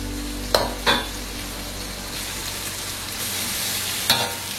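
Onion stir-frying in a pan for Korean japchae bulgogi: a steady close sizzle with a few sharp spatula scrapes and taps against the pan, no voices.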